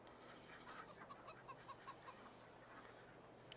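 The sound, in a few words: farm chickens and ducks clucking and quacking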